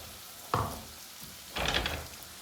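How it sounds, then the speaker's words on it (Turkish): Köfte meatballs frying in a pan with a drop of oil on low heat, two bursts of sizzling, a short sharp one then a longer crackling stretch, close and fairly quiet. "Evet şu anda köftelerimiz kızarıyor"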